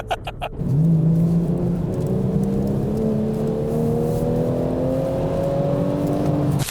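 A BMW M240's engine hums steadily close by, its pitch climbing slowly as the car pulls away at low speed, with no talking.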